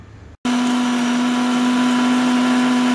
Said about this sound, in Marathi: आता हे सगळं जिन्नस जे आहे आता आपण वाटून घ्यायचं आहे